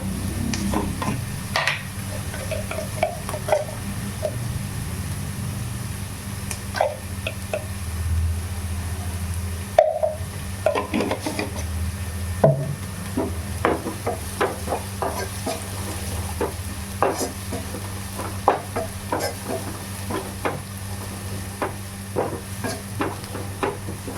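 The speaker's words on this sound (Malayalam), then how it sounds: "സവാള ഒന്ന് പെട്ടെന്ന് വഴണ്ട് കിട്ടാനായിട്ട് നമുക്ക് അതിലേക്ക് കുറച്ച് ഉപ്പിട്ട് കൊടുക്കാം" Sliced onions with salt sautéing in a pan for chicken curry, a soft steady sizzle under frequent scraping and clinking stirs of a spoon against the pan, close and fairly quiet.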